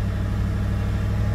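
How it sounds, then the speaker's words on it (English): A BMW car engine with a mechatronics gearbox hums steadily at low pitch, close and fairly loud. There is no clear rise in revs across the short stretch and no talk. "the engine speed will increase with the throttle"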